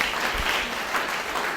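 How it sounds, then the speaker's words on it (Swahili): Short, steady burst of audience clapping at a Swahili school drama performance, close and fairly loud, lasting the whole moment without voices. "Piga makofi jamaa."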